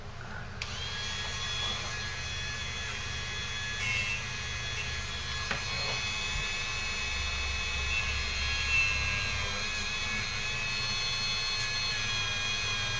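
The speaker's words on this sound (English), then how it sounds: "I'm also going to polish the extractor tip itself" A Dremel rotary tool whines at a steady high pitch throughout, polishing the extractor tip of a Mosin Nagant rifle, close and continuous with slight load changes.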